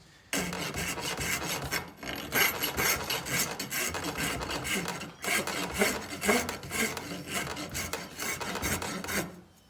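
Hand file rasping against a wooden war club as it is shaped, loud close strokes in long repeated bursts separated by brief pauses, with no voices.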